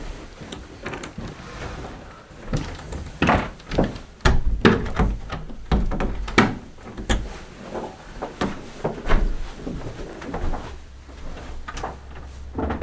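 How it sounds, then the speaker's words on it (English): Doors in an old inn thud and clatter shut in a series of irregular knocks and bangs over faint room noise, some louder and close, others softer, with no talking. "Should I close the door again?"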